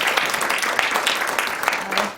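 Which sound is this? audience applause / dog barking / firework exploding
audience applause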